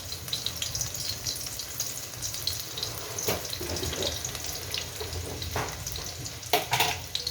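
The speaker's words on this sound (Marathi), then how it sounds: "त्यानंतर लसूण टाकायचं फोडणीला." Chopped garlic is dropped into hot oil in a heated kadhai for a tempering. A soft, steady hiss and sizzle runs throughout, with a few sharper spits and pops near the end and no voices.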